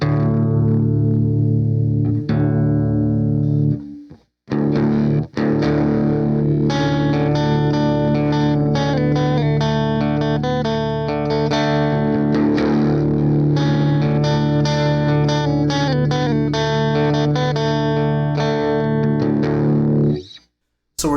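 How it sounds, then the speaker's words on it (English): Electric guitar through a Boss Blues Driver overdrive pedal, strummed chords ringing with crunchy overdrive and short pauses near the start and end, loud and close with no voices. "So we're definitely getting into overdrive tones now."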